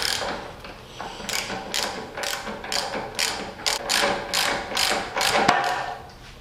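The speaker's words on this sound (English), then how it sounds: "get your 22mm socket and loosen the top of your fork cap" Ratchet with a 22mm socket loosening a motorcycle fork cap, a series of quick clicking bursts in an uneven rhythm, close and clear.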